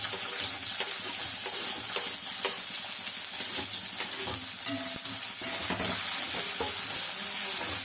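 Onions and green chilies fry in a pan, giving a dense, steady sizzle close by, with frequent scraping stirs and occasional clinks throughout and no talk.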